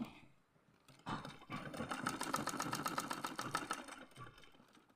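A sewing machine runs a straight seam on Hmong trousers, starting after a second of quiet and then racing in a fast, rapid stitching rattle that fades slightly at the end.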